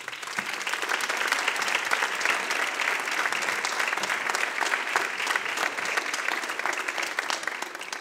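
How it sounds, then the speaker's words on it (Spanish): Strong, sustained applause from a concert audience welcoming officials before an autumn concert by a municipal music band in Albolote, a dense steady roar of clapping lasting the whole stretch with no speech over it. "Un fuerte aplauso."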